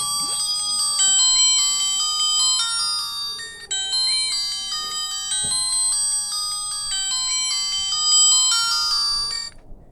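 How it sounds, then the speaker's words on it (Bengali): A mini mobile phone plays a bright electronic ringtone melody as a call comes in, loud and close, with a brief break midway before the tune repeats until it stops. "এই ফোনটির আমি একটু কল দিব"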